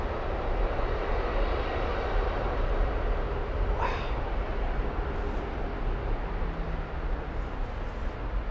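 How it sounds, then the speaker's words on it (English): An Air Canada Boeing 787 Dreamliner departs Heathrow, a broad, steady jet engine roar holding loud and constant throughout without a break, with no voices. "Air Canada Dreamliner that's just about to come out."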